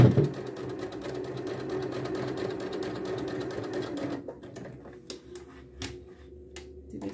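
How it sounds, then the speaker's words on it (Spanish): A sewing machine runs a long straight stitch at close range, whirring fast and steadily, then slows into a few separate clacking bursts. "ahora vamos a darle una puntada larga, más o menos en la puntada 5, solamente recta para poder recoger."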